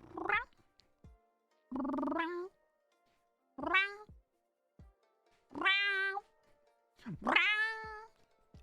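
A hungry cat asks for food with five distinct meows. They come at spaced intervals and get louder and more drawn out toward the end, heard close by in a quiet room with no talking.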